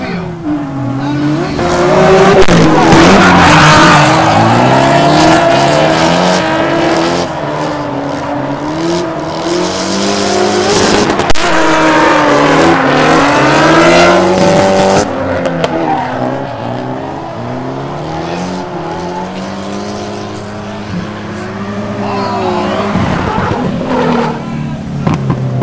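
Drift cars battle head to head at the OSW Spring Break Bash, their engines revving hard and tires squealing loudly and continuously for the full run, with rising and falling engine pitch throughout.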